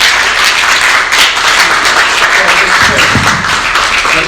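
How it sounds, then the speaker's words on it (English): Loud, dense applause from an audience at a college talk by a former congressman, sustained clapping close and continuous across the whole stretch without a break. "give them a big round of applause"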